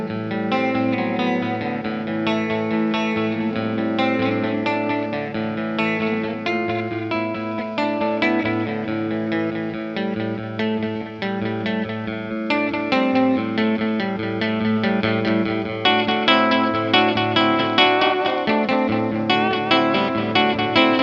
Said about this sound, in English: I've now got the echo turned up to number 6.